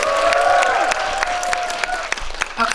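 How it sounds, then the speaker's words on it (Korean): An audience at a Korean film screening Q&A for the film The Night Owl applauds as the director and lead actor Ryu Jun-yeol are welcomed. Steady clapping runs under a sustained musical tone with a few louder claps near the end. "큰 박수로 맞이해주세요."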